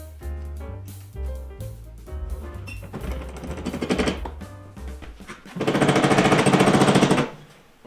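Power tool tightening bolts on the steering of a 302 single cylinder tractor, a loud sustained whirring burst for about two seconds near the end, heard over a steady low engine-like chugging.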